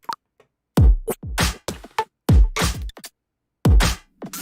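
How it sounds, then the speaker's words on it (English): An odd, loosely built percussion groove from an album track, with booming kick-like hits, bright snare-style cracks and thin hi-hat ticks in an irregular, stop-start pattern, loud and close with short silent gaps and no talking. "I'm building this weird little like groove out of percussion sounds"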